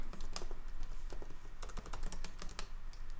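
Quiet, brisk typing on a computer keyboard, with irregular runs of crisp key clicks and short pauses between bursts while HTML is entered.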